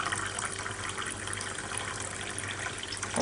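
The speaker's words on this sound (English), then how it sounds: "fill up the glass. So we have the same measurement." Kangen water pours steadily into a glass, a continuous close splashing gush with no pauses, filling the glass to match a measured amount.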